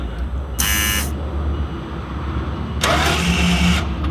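A troublesome McLaren supercar cranks in two short bursts, a bright whirring starter sound about half a second each, separated by a quiet pause over a low background hum.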